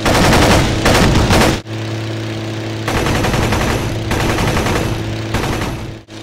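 A Messerschmitt Bf 109 fires its three 7.9mm machine guns and 20mm cannon in loud, rapid sustained bursts, broken by a brief pause, over a steady droning engine.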